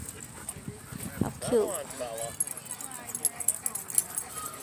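Dogs at an outdoor dog park, including a German Shepherd puppy, give a short whimpering yelp amid ambient park noise while people talk nearby.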